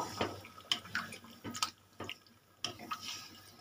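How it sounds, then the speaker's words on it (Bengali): A little water goes into a pot of cooked moong dal with fish head, heard as faint, intermittent splashes and stirring clinks at close range. "দিয়ে দেবো অল্প করে জল।"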